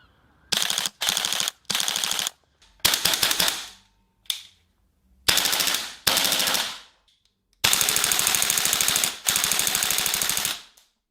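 GBLS GDR-15 airsoft rifle firing full-auto in a series of rapid rattling bursts, some short and some long, loud and close with silent gaps between.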